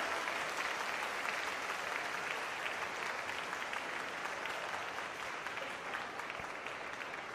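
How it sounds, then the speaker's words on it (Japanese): Large venue crowd applauding at a professional table tennis league match held in a shopping mall, steady dense clapping sustained throughout at an even level with no talk. "会場の皆さん、大きな拍手をお願いいたします。"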